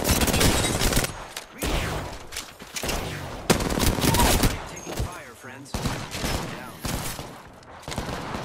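Dense, close gunfire in Apex Legends on the World's Edge map: repeated automatic bursts and heavy shots in quick succession, with brief gaps, over game noise and some speech.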